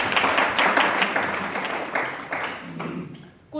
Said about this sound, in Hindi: अरे तालियां बजा दो भाई एक बार।